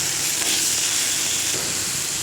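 Pumpkin leaves fry in a hot pan with a loud, steady sizzle and hiss that runs unbroken and close throughout.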